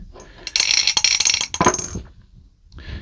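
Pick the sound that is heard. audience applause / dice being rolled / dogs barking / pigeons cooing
dice being rolled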